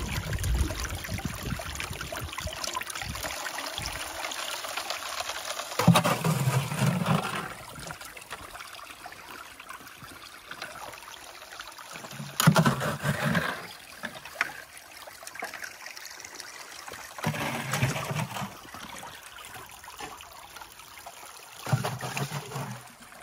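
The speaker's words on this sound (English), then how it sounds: "I love that sound of the water." Water flows and trickles steadily through gold mining equipment in Wisconsin, with a few louder gushing bursts between calmer stretches.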